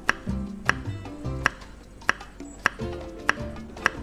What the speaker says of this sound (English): Cut potato into pieces